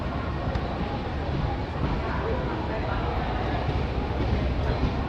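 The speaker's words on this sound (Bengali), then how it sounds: "কিষানগঞ্জ স্টেশনের 2 নম্বর প্ল্যাটফর্মে ট্রেন এসে পৌঁছালো।" The Uttarbanga Express rolls into a platform at Kishanganj station, a steady low rumble of the train beneath loud crowd chatter from waiting passengers.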